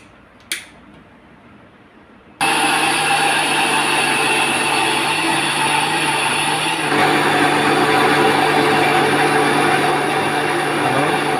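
A mixer grinder jar grinds soaked rice and urad dal into dosa batter, switching on abruptly after a short quiet pause with a single click, then running as a loud, steady whirring motor hum.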